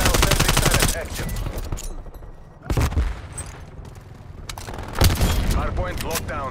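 A sentry turret in Call of Duty Cold War hardpoint play fires sharp, loud repeated bursts with heavy booming shots, the gunfire rattling under a game announcer's voice.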